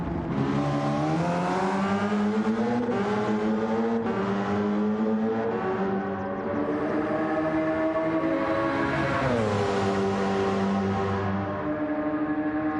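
Gr.2 race car engine in the Gran Turismo video game at Suzuka, a loud, continuous droning roar that climbs and drops in pitch through the revs and gear changes, with no talking.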